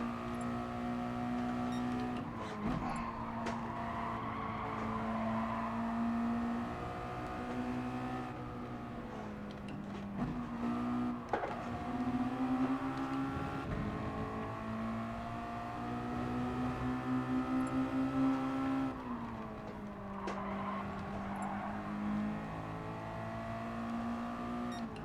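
A Mazda MX-5 touring car races around Brands Hatch in a video game, its engine revving and shifting through gears with rising and falling whine, while other cars' engines sound nearby, steady and moderately loud.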